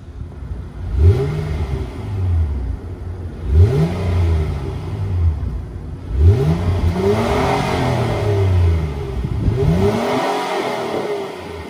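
A 2022 Honda Ridgeline's 3.5-liter VTEC V6 is revved while parked. Four distinct, close throttle blips rise and fall at a steady spacing, with moderate loudness and no talking.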